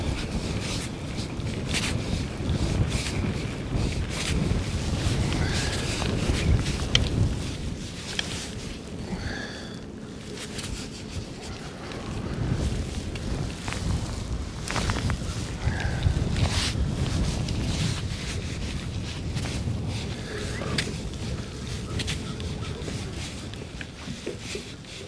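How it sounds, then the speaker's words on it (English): Strong wind gusts buffet an outdoor microphone for the whole stretch, a steady loud low rumble that swells and eases in waves, with no voices. "Oh man, that wind."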